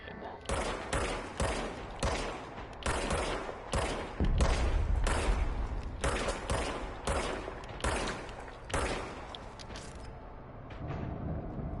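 Bursts of gunfire from a handgun in the video game Control, rapid repeated shots in clusters of several with brief pauses and mechanical clicks between, loud and close with some quiet speech.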